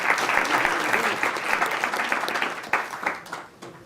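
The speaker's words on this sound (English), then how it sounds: "let's give them a round of applause" An audience at a panel discussion on the sharing economy gives the guests a burst of applause that fades out over a few seconds.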